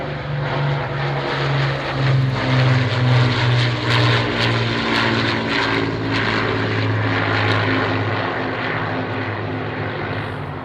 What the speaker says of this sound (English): It's the Battle of Britain Memorial Flight and the Lancaster.